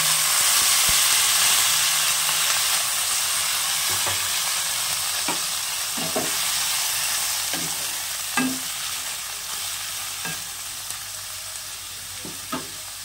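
Radish going into hot oil already crackling with mustard seeds and dried chili, a steady close sizzle of frying broken by scattered sharp pops and the scrape of stirring, with no talk.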